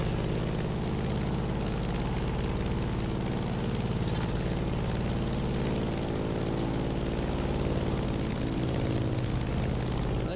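A propeller airplane engine in The Crew Motorfest video game, a steady, loud droning roar with a deep throbbing hum that holds constant throughout, close and without talk.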